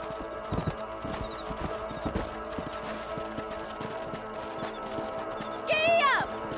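Horse hooves clip-clop in a steady trotting rhythm in the Red Dead Redemption video game, riding over a continuous ambient bed, with a brief horse whinny rising near the end.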